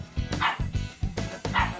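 A small dog yaps in quick repeated barks, about five sharp close calls in under two seconds, loud and clear indoors.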